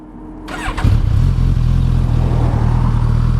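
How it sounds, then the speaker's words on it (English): A motorcycle engine with a standard exhaust catches and settles into a loud, steady, throaty idle close by, with a brief rising rev at the start. "it's the sound of that gorgeous bike in the background"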